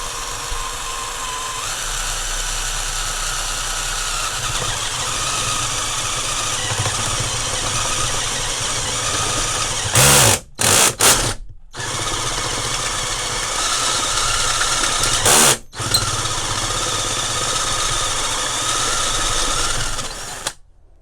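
Power drill boring holes in a box meant to hold an air reservoir tank for Land Rover Defender TD5 side steps, whirring steadily and loud at close range, with a few brief stops and restarts.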